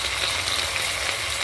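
Curry leaves dropped into hot oil for a millet and moringa-leaf kichidi, crackling and sizzling in a dense, steady, close hiss with no voices.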